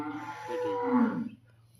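A single cow moos once, a drawn-out low call at moderate distance, fading into quiet.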